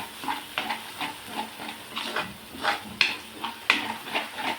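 Chili powder frying in oil in a pan for egg masala curry, with a soft sizzle under a steady rhythm of close spatula stirs and light scrapes against the pan, and no voices.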